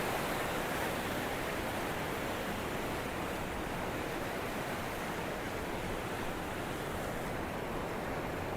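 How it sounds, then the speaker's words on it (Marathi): The Ghatprabha river flows near the Hadalge bridge, heard as a steady, loud, broadband rush of moving water with no pauses and no voices. "पाण्याचा प्रवाह बघू शकतात."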